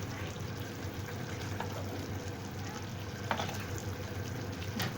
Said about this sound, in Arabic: احنا اهو نزلنا بالفراخ كده،